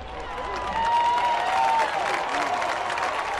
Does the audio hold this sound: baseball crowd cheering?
yes